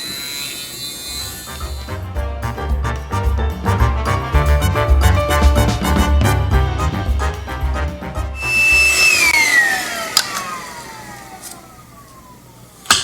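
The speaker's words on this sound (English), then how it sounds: "drilling out these plastic pieces always results in lots and lots of plastic shavings" A loud, steady motorized whir of a drill boring through small plastic miniature parts, grinding on for several seconds before slowing and winding down near the end.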